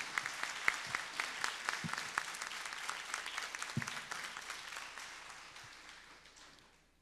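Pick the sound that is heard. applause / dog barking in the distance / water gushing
applause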